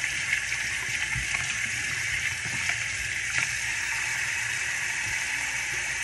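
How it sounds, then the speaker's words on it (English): A bathroom tap runs steadily for several seconds as someone washes their hands, a constant close rush of water with faint splashes and no talking. "I'm just got to wash my hands."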